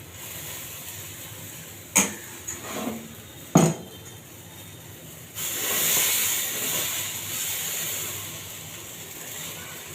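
Puffed rice and flattened rice chilla batter hits a hot pan with a sudden loud, steady sizzling hiss, preceded by a couple of sharp clinks of utensils against the cookware.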